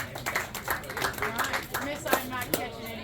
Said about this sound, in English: Give her a round of applause right there.